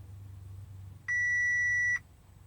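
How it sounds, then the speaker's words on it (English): A single sustained electronic beep from an Audi RS5 module during a retractable rear spoiler retrofit, steady and clear, lasting about a second against a quiet low hum. "You'll get some beeps."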